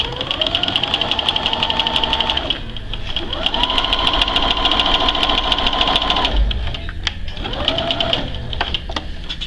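A sewing machine back stitches a seam, running in three loud, rapid, rhythmic bursts whose pitch rises as it speeds up, with short pauses between them.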